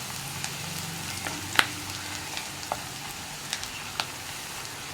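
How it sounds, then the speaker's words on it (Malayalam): Onions frying in a pan give a soft, steady sizzle with occasional sharp spatter pops and light scraping as they are stirred, fairly quiet and close with no talk. "അപ്പോൾ നമ്മുടെ സവോള നമ്മളൊന്ന് ഇളക്കി തുടങ്ങി, സവോള ട്രാൻസ്പെറൻ്റ് ആയി തുടങ്ങിയിട്ടുണ്ട്"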